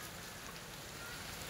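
Heavy rain falls steadily outdoors as a faint, even hiss of drops with no breaks.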